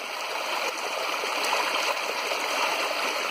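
Water rushes from an overflowing reservoir (açude) in the Caatinga after a heavy storm, a steady, close, hissing stream flow with constant splashing and no talk.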